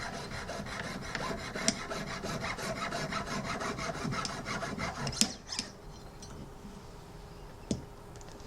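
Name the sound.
cutting thick metal tube spacer for jewelry rivet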